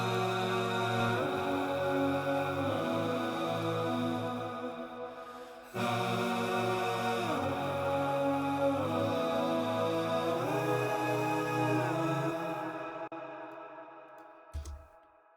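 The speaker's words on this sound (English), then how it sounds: "the choir that's happening behind the lead vocals in the pre-chorus." Layered choir backing vocals from an indie-pop song's pre-chorus, sustained harmonized voices gliding between notes in long phrases, steady and full, then fading toward the end.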